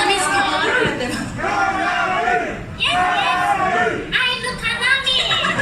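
Concert crowd on a US tour repeatedly calling a guitarist's name, loud rhythmic chanting in bursts of three or four surges, close and energetic.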